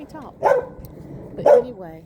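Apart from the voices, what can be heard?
dog barking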